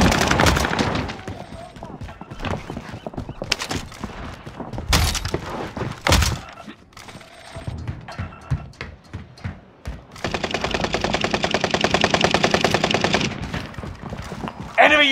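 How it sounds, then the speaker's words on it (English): Rapid MP5 submachine gun fire in a Call of Duty Rebirth Island match, with sharp bursts and single shots, a sustained rattling burst near the end, and game voice callouts between the shots. "We're taking fire."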